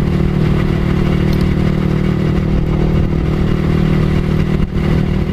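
A motorcycle engine drones steadily while riding on a damaged stretch of the Pantura road in Java, loud and close, with rumbling low tones, wind noise and an occasional light clatter.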